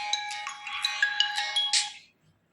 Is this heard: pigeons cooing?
no